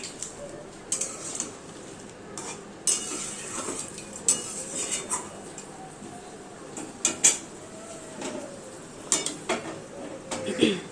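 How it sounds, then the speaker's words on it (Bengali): A potato mixture is stirred in a pan with a utensil, making scattered light metallic clinks and scrapes at irregular intervals over a soft background hiss. "আবারও একটু ভালো করে নাড়িয়ে দিচ্ছি"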